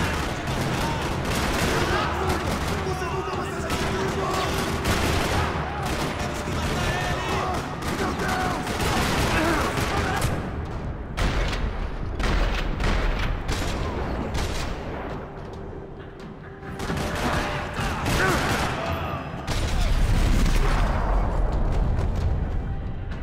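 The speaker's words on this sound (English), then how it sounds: "Another parking lot rattling with gunfire." Rattling bursts of gunfire in a radio drama set in a parking lot, rapid volleys of loud cracks and booms that rise and fall, with a voice briefly heard among them.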